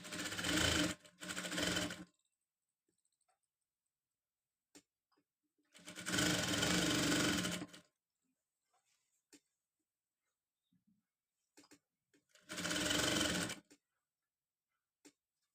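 A sewing machine stitches a designer blouse in three separate loud bursts of about two seconds each, with a few faint clicks and taps in the quiet gaps between runs.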